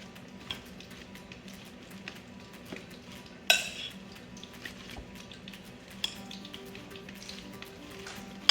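Fish seasoning being mixed by hand in a kitchen, with soft scraping and clinking of a utensil against a bowl over low background sizzle, one sharper knock partway through, steady and close.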